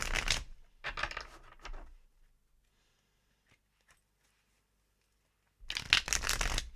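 Tarot cards are shuffled nearby in short riffling bursts: two at the start, then a quiet stretch with faint taps, then another loud burst at the end.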